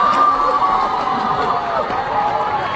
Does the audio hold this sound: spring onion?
no